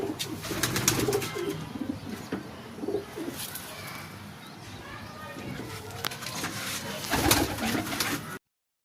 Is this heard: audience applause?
no